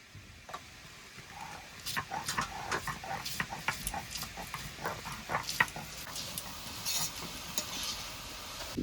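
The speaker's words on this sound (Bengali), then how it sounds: "আদা রসুনটা একসঙ্গে বেটে নেব" Ginger and garlic ground together by hand, a close, uneven run of scraping, grinding strokes at a loose rhythm that builds after the first second or two, with faint background noise and no talk.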